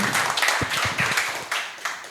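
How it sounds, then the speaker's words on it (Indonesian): A small group claps and applauds together in a steady, close patter of handclaps, with no talk over it. "Applause for everybody."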